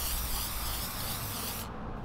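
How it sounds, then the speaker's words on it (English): Steady, loud hiss of clear coat being sprayed from an aerosol onto a headlight lens, continuous and close, cutting off near the end. "So I'm gonna spray some clear coat on this headlight lens here."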